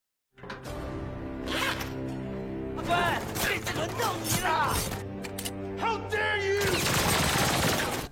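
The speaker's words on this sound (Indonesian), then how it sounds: "Donggu yang berjaga di luar pengadilan terkejut mendengar suara tembakan dari arah dalam" Gunfire erupts in a film courtroom scene: sharp bursts and rapid volleys cut through shouting and dramatic music, with the intensity building in waves.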